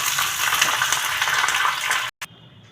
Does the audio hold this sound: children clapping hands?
no